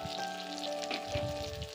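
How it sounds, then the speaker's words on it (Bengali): Garlic and ginger fry with onion, tomato and green chili in a pan for an egg curry, producing a steady, close crackling sizzle over a faint tonal hum. "এখানে পেঁয়াজ, টমেটো আর কাঁচা লঙ্কা একসঙ্গে ভেজে নিচ্ছি।"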